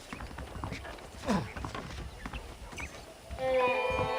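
Horses in the Western game Red Dead Redemption, with quiet, irregular hoof clip-clops in the background and a brief brighter, louder rise near the end.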